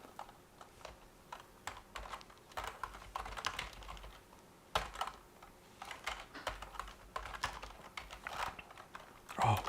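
Soft clicks and taps from typing on a computer keyboard come in irregular bursts and single keystrokes throughout, fairly quiet and close, with a voice speaking faintly at times.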